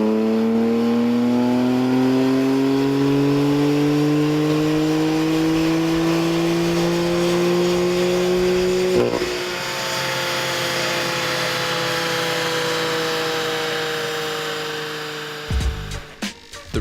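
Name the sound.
2015 BMW M3 engine revving on a dyno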